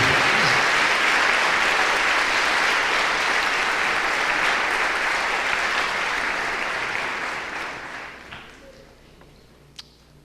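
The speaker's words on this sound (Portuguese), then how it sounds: "você vai dar um aplauso a Ele" Sustained applause from a large church congregation, loud and even, gradually fading out until only a few scattered claps remain.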